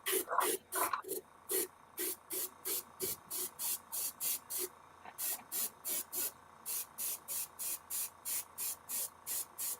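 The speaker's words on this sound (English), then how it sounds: "see how I'm hitting the airbrush. I'm not going holding it down like crazy" An airbrush spraying paint fires in short, evenly spaced bursts, a rhythmic series of quick hissing pulses, with someone talking softly under the first few seconds.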